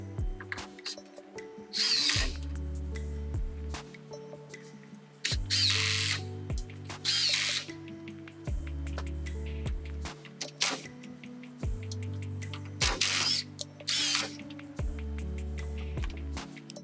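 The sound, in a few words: driving 3.5-inch screws into wooden solar array frame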